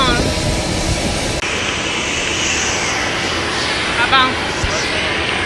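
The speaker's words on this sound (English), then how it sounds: "I'm about to enter the private jet now." Private jet engine noise at boarding for a flight to Miami, a steady loud roar and whine filling the scene, with a short break partway through and a rising whine near the end.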